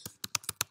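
Five sharp, close keystrokes click on a computer keyboard in quick, uneven succession while a Facebook post is typed, quiet and alone with no talking.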